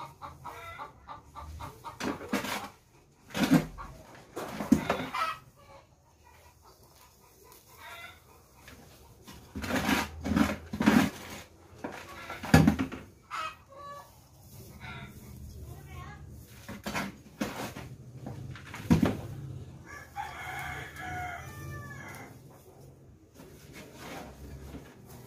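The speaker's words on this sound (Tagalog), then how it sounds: "ang ingay ng mga manok. Andito kasi sa loob, naglilimlim." Chickens brooding indoors cluck busily nearby, with a rooster's crow rising among the clucks, under a person talking and some rubbing, scraping noises.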